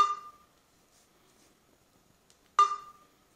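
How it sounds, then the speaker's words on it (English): Two short electronic beeps, a couple of seconds apart, with near silence between them. "Sorry about that beep"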